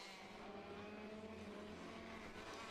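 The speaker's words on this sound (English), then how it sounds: "some of the fastest karts that you'll see today out on circuit now" Racing karts run on Rowrah Circuit, their engines making a continuous buzzing drone at moderate distance, steady in pitch with no passing peaks and no talk.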